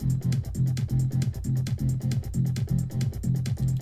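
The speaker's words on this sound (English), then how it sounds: "So I've got just a kick and three hi-hats," FL Studio beat of a kick, three hi-hats and three bass parts without sidechaining, a fast steady loop of punchy low thumps under bright ticking hats, played alone.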